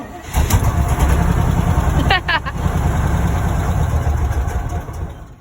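A 1979 Chevy K10 truck engine, run after sitting fifteen years, idles steadily and loudly up close, a low continuous rumble with a brief chirp of bird or belt noise partway through.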